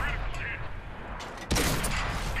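A World of Tanks AMX Chaffee fires its gun with one sharp loud blast midway that rings out after, preceded by game ambience while someone talks throughout.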